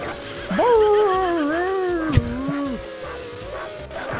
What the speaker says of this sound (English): I'm gonna bark at these cars.